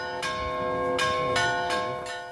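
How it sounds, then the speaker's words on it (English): Bells of a Greek Orthodox monastery on an island ring out loud and resonant, several strikes in a slow, uneven rhythm with long humming overtones. "he still wants the people in the valley below to hear the bells"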